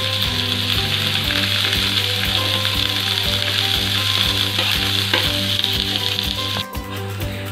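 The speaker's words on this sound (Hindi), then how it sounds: "हमें ये गार्लिक और ये कोरिएंडर लीव्स तब तक फ्राई करते रहना है" Garlic and coriander leaves fry in a hot pan with a loud, steady, close sizzle that runs the whole time, with occasional stirring scrapes and a brief dip near the end.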